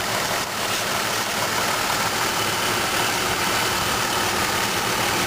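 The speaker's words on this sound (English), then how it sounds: "it's got the Vortec 4200 6-cylinder engine." A 2003 GMC Envoy with the Vortec 4200 six-cylinder engine idles steadily, giving a constant, close, even hum with no talking over it.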